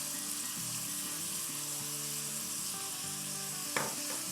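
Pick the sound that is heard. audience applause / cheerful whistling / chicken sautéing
chicken sautéing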